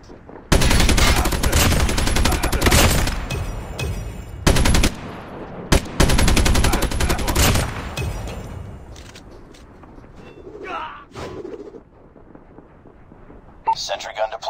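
Sentry gun in a zombie-shooting video game fires long, loud automatic bursts with brief gaps, followed by scattered quieter shots and effects.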